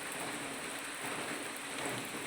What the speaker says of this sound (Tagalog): Ang panahon ng ulan-ulan na po